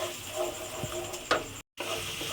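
A spice paste of ginger, turmeric and chili sizzles in a pan while being cooked down for a potato dish, a soft steady hiss with an occasional scrape, then a brief gap of silence.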